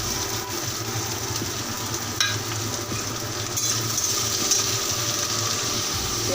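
Beans fry in a pan with chopped ginger and garlic, a loud, dense, continuous sizzle close up, with faint stirring scrapes and no voices.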